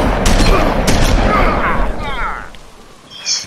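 A loud gunshot from The Wolf Among Us video game blasts at once into a booming, echoing burst that gradually decays, followed by fainter game sounds.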